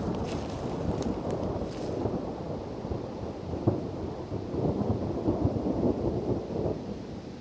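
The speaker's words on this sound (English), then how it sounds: "the thunderstorm came earlier than expected, and it's really windy and it's starting to rain, and you can hear probably thunder" Thunderstorm on an off-grid island: rolling thunder with steady rain and gusty wind buffeting the microphone, a dense continuous roar with a few sharper rumbles rising through it, no voices.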